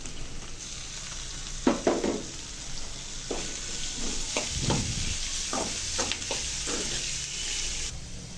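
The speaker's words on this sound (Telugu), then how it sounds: "ఇందులోకి మనం ముందుగా కడిగి పెట్టుకున్న ఎర్రపప్పును కూడా వేసి 1 నిమిషం ఫ్రై అవ్వనివ్వాలండి." Washed red lentils fry in hot oil with turmeric in a pan for a spring onion curry, a steady soft sizzle broken by repeated scraping stirs of a spoon.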